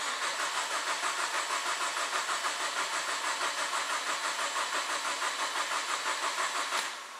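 A car engine cranking over with the gas pedal held fully down during head gasket testing, a steady fast rhythmic churning whir that runs unbroken for several seconds, then falls off abruptly near the end.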